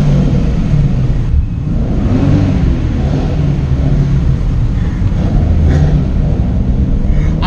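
A turbocharged Toyota GT86 revs nearby, a loud, steady low engine rumble with rising and falling surges throughout, heard from outside or close behind the car, with no talking.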